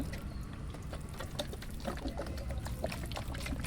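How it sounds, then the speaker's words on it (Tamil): Water trickles and patters faintly as it is lightly sprinkled over a potted chrysanthemum plant, with soft irregular splashes and no one speaking. "இப்போ தண்ணி கொஞ்சம் லைட்டாக தெளிச்சிக்கலாம்"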